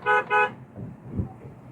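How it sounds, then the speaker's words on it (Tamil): Two short, loud car horn honks in quick succession, followed by a low road rumble. "ஹார்ன் அடிங்க"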